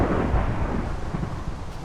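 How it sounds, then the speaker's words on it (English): Thunder in the Minecraft Beta mod Better Than Adventure, a deep, loud rumble rolling steadily through the short moment, with a faint hiss of rain. "I just endured a full day of rain and thunder, and I did not like it."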